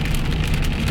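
Steady rain falls on Prince Edward Island as a dense, continuous patter of drops striking surfaces nearby, loud and even throughout with no voices.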